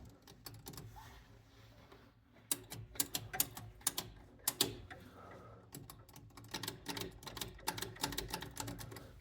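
Electromechanical units inside a Bow and Arrow pinball machine in a rental cabinet running after the game boots up: bursts of rapid, sharp clicking and ratcheting, close and mostly alone, with short quieter gaps between clusters.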